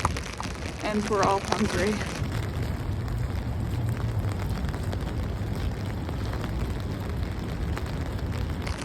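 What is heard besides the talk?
rain falling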